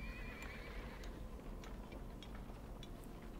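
A horse whinnies near the start over a steady rumbling background, followed by a light, regular clip-clop of hooves, from the video game Battle for Middle-earth.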